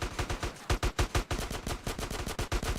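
Rapid bursts of gunfire in a shooter game, Frosted Winter: Remastered, crack out loud and close in a steady rhythm, one shot after another, with no voices.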